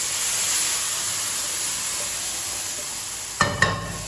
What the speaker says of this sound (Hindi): सिर्फ और सिर्फ चम्मच हिलाते रहना, चम्मच हिलाते हुए नहीं रोकना